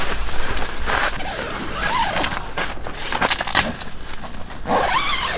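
A zipper on a ZAIN ARTS GIGI-1 tent is pulled open, giving several scratchy, rasping runs with jangling fabric rustle, close and fairly loud, with no talking.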